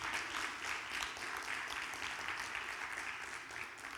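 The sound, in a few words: congregation applause in church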